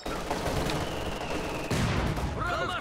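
Machine gun fire in Company of Heroes 2: steady rattling gunfire runs under game battle noise, with a sharper, louder burst near the middle and a faint voice or effects toward the end.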